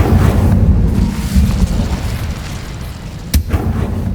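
Incendio fire spell cast in Hogwarts Legacy on PS5, a dense rumbling whoosh of flame bursting and roaring steadily, with one sharp crack near the end.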